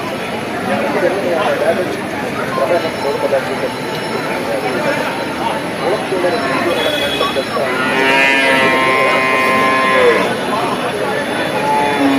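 Busy outdoor livestock market at Perumpilavu, Kerala, with buffalo calves lowing and bleating among the crowd, people talking throughout.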